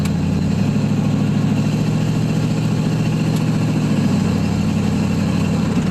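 A 1987 Toyota 4WD pickup with a small-block Chevy 355 V8 and a 700R4 automatic runs during a cold start and break-in, giving a loud, steady, close low rumble that never lets up.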